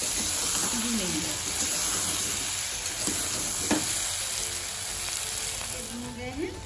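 Potato and eggplant curry sizzles steadily in a pan while being stir-fried, a constant frying hiss with occasional scrapes of the spoon and faint voices in the background.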